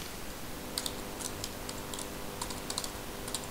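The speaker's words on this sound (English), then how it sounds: "I will type it" Keys on a computer keyboard are tapped in small irregular clusters of soft clicks over a steady background hiss.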